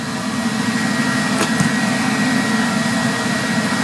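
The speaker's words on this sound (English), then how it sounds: "Machine is on. It's very loud, but you should be able to hear the gas solenoid activating" A TIG welder runs with a loud, steady broadband drone throughout, and a brief click from the gas solenoid switching on cuts through the roar near the middle.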